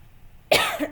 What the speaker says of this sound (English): Okay, I'm coughing now.